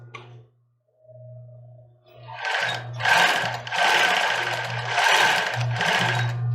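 A domestic sewing machine backstitching to finish a seam on a child's bra: a faint low hum and soft tones first, then several loud, close bursts of rapid stitching with short pauses between them and no speech.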